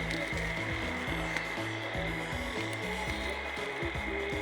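Frogs croak on a rainy night in a rice field, a dense chorus of close, rhythmic pulsing calls overlapping steadily over a background wash of rain.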